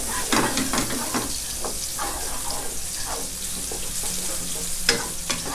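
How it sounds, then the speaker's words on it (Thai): Shiitake mushrooms being stir-fried over high heat, with a steady loud sizzle and repeated scraping and stirring of the utensil against the pan, close up and continuous throughout. "ปรุงเห็ดหอมนะครับ ไฟแรงๆเลยนะเพื่อนๆ"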